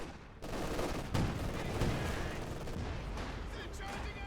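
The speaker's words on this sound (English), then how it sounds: "There was some well-placed machine gun fire." Dense battlefield din from Company of Heroes 2 with sustained machine gun fire, distant artillery and explosions, a continuous rumbling wash of combat that stays loud throughout with no clear individual shots.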